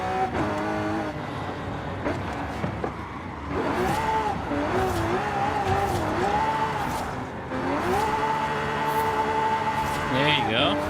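A Mercedes drifts in Forza Horizon 5 on a steering-wheel setup, its engine revving and wavering through shifts while tires squeal, with a voice talking over the game audio.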